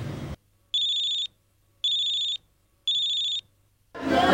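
A telephone rings three times in steady, evenly spaced bursts with short silent gaps and no one picks up; the call goes unanswered in a quiet room.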